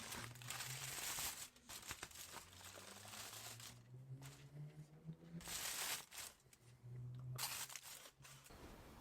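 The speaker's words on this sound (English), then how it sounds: "Unwrap these." Foil being peeled off cooked pork ribs, with close crinkling and crumpling in bursts, quiet but clear, alongside faint low background hum.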